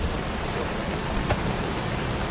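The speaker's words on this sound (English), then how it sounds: "Oh my gosh, it's pouring down raining." Heavy rain pours down in a dense, steady roar that hisses evenly across the whole moment, loud and close, with no voices over it.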